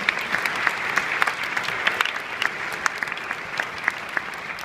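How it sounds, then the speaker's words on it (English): A choir at an ACDA 2015 choral session applauds itself after finishing a piece, with steady, fairly close clapping from a large group that holds dense and even for several seconds without talk. "Give yourselves a round of applause."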